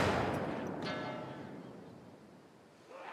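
A loud gunshot bursts out and echoes away, with a second quick crack close behind it, as a player fires at a sign in The Last of Us Part II.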